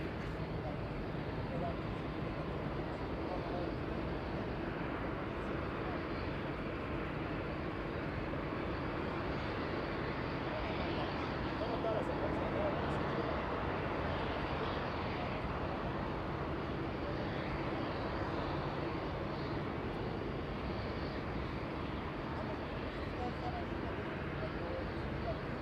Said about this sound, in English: Flying in from Warsaw, Poland. The smallest of the Dreamliner, 787-8.